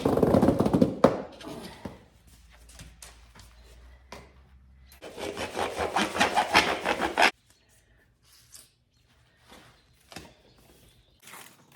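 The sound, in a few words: sawing a perforated drain pipe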